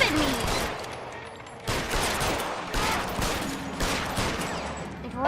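Bursts of gunfire crackle through a shootout in the video game L.A. Noire, sustained volleys with short gaps, loud and dense throughout.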